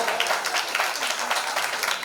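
A crowd applauds during a Navaratri festival at a Kali Amman temple, dense, even clapping from many hands filling the space at steady loudness.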